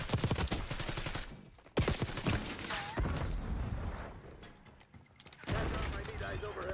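Rapid gunfire in Black Ops 6, loud bursts of automatic shots with brief gaps, overlapping game voice callouts and speech.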